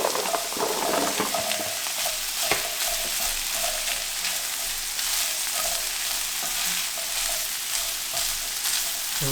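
Ham and onions sizzle steadily in a hot pan as asparagus is added for a deep dish quiche, a loud, continuous close-up hiss with occasional stirring scrapes and no voices.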